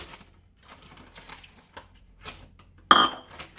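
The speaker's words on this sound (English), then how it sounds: "Mix. Mix well." A utensil stirs a beef marinade with honey in a bowl on a balcony, giving soft scraping and light taps before one sharp, bright metallic clink near the end, close and otherwise quiet.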